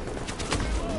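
Rapid bursts of turret gunfire rattle through a video game firefight, dense and continuous across the second, with a voice faintly mixed underneath.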